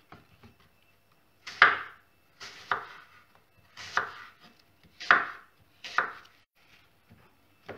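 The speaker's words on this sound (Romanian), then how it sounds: "Și tăiem așa bucățele cu bulețe mărunțele." A knife chops apples into small pieces on a board, making about six distinct, fairly close, crisp thuds spaced roughly a second apart with quiet gaps between.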